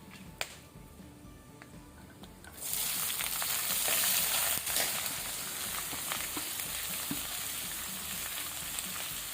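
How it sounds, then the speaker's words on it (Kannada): Onions frying on low flame with whole spices including black pepper for prawn biryani, a steady loud sizzle that jumps up sharply a few seconds in as the onions hit the oil, with no talking. "ಇದೀಗ ಆನಿಯನ್ ಲೈಟ್ ಬ್ರೌನ್ ಆಗೋ ತನಕ ನಾವು ಫ್ರೈ ಮಾಡಬೇಕು."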